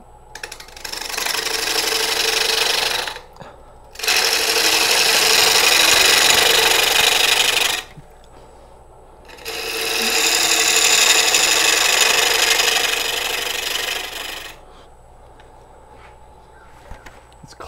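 A bowl gouge nibbles a high spot on a nut-embedded live edge wood bowl spinning on a lathe. Loud, close bursts of cutting and scraping come in three long passes, with quiet lathe hum between them.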